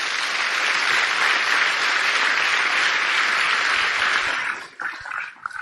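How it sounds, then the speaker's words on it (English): Loud, sustained applause from an audience at a gathering fills the space steadily for several seconds, then cuts off abruptly into quieter room noise. "I would just like everyone to give a round of applause for the Piscataway and the Haudenosaunee"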